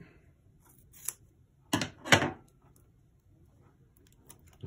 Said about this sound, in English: you're going to take another piece of your tape, cut it